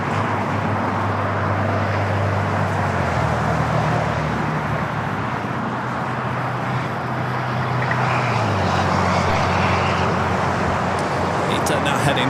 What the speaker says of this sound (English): A Delta A350-900 now short final for 24 right.